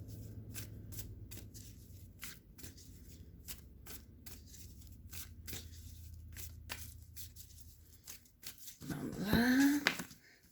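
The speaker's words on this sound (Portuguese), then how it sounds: "Tirando bem as cartas." Tarot cards being shuffled, a run of quick crisp riffling flicks at a steady pace, with a louder burst of cards near the end, fairly close and alone without talk.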